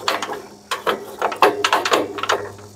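A hand crank is turned to start the engine of a walk-behind power tiller, giving loud, close ratcheting clicks and mechanical rattles in quick bursts.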